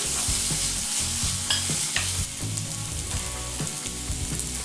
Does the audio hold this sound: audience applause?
no